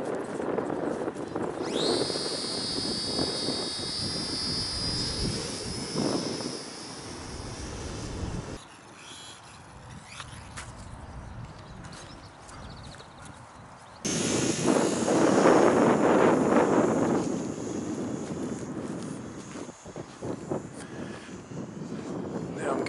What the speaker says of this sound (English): I'll give it some throttle, make sure the prop don't fly off